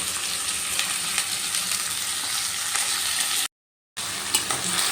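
Washed rice being fried in a pan with whole spices, a continuous loud sizzle close up with occasional stirring scrapes, cut by a brief silent gap near the end.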